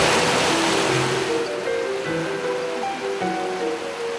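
Rushing river water on the Mekong where fish and shrimp try to climb upstream, a steady loud broadband wash of flowing current throughout, with no talk.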